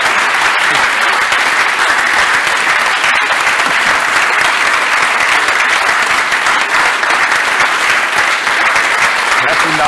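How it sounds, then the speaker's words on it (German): Sustained audience applause following a lecture on the WHO pandemic treaty in Triesen, Liechtenstein, steady and dense throughout, filling the hall without pause. "also bitte einen ganz großen Applaus für ihn"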